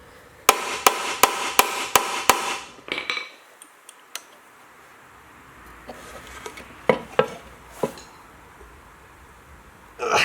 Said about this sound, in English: So you can see a few whacks with a hammer and comes straight out.